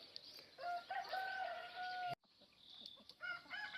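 Chickens cluck and a rooster crows while feeding on insects from a handmade trap on a rural Thai farm, faint and somewhat distant, with a brief break in the middle.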